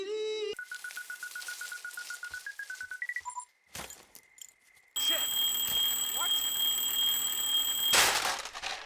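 Electronic alarm on a bag in the video game Firewatch beeps in a rapid, steady repeated pattern, then shifts pitch and breaks off, followed by a louder sustained tonal electronic ringing with background noise.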